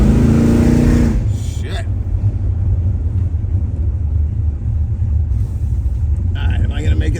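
A 1974 Dodge Charger accelerates with a deep, steady engine rumble heard from inside the car, loud and sustained throughout, while a man briefly exclaims at the start.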